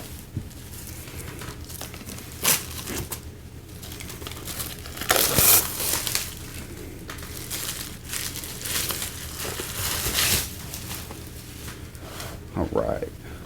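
Cellophane wrap on a cigar box is cut with a small knife and peeled away, giving close crinkling and crackling with sharper tearing bursts at intervals.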